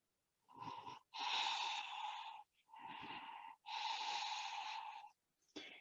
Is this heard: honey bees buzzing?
no